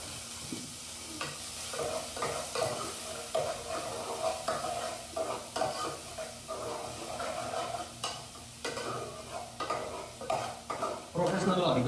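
Onions fry in a pan while being stirred, a steady sizzle broken by repeated close scraping and clattering strokes of a utensil against the metal, with no voices.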